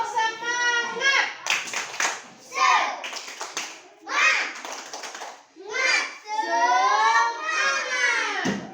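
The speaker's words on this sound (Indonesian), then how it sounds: "Kita tepuk semangat ya" Schoolchildren in an Indonesian classroom chant loudly together while clapping in a rhythmic spirit-clap routine, their voices and hand claps alternating in short bursts close by.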